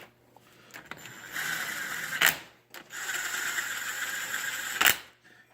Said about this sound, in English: here we're just barely snugging these bigger bolts